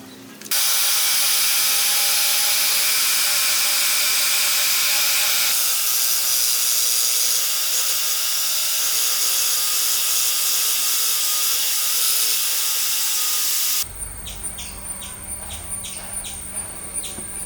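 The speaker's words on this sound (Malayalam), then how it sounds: "നമുക്ക് ജിക്സോ ഉപയോഗിച്ച് നമുക്ക് കട്ട് ചെയ്തെടുക്കാം" A jigsaw cuts through wood for a handmade wooden rolling trophy, a loud, steady buzzing saw run lasting about thirteen seconds before it stops and a quieter mechanical clicking takes over.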